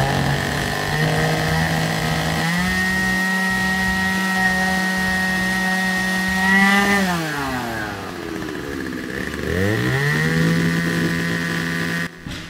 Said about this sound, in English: I came back outside with my monster old 36-inch bar chainsaw, which you can see here I'm using